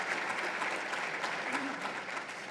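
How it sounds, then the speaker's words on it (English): A conference panel audience applauds Tony in a sustained, even wash of claps, moderately distant and continuous throughout, with no voices over it. "Another round of applause for Tony."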